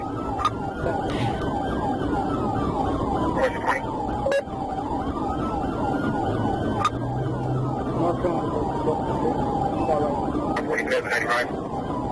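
A wailing police siren sweeps up and down continuously during a vehicle pursuit, close and loud, over engine and road noise, with officers shouting over it.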